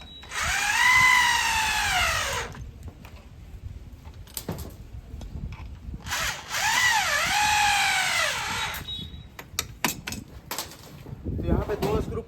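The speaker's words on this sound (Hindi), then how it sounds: "इसको इसे ड्रिल मशीन से टाइट कर लेंगे।" Electric drill whirring in two loud bursts with rising and falling pitch, driving screws to tighten a dish TV antenna mount, with clicks and handling knocks between and after the runs.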